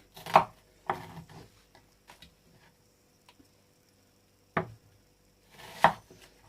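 Sparse knife chops through onion on a board, a few sharp close strikes spaced irregularly with quiet gaps between, no talking.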